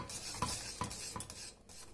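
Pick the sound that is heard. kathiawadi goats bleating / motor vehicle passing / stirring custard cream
stirring custard cream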